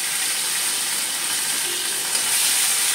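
A steady, bright sizzle hisses from a hot pan as cumin paste goes into oil tempered with dried chilli, bay leaf and cumin seeds for katla fish curry, continuous and close with no talking.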